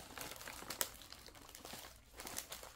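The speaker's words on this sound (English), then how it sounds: "Let's see if we can fold this piece." A sheet of paper folded and creased by hand for a junk journal, soft close crinkling and rustling in short bursts with one sharper crackle, quiet and without talk.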